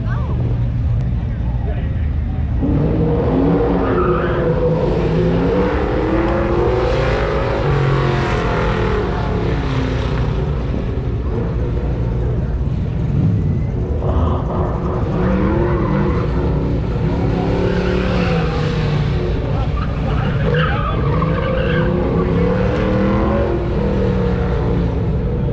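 A Sonic Blue Fox Body Ford Mustang races at a Goodguys event in Del Mar, California, its engine a loud, continuous roar with rising revs and tire noise throughout, while an announcer talks over it.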